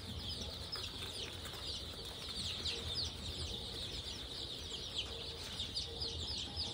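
Local chickens and chicks clucking and cheeping continuously on a farm, a steady layered chorus of soft clucks and high peeps with no talking.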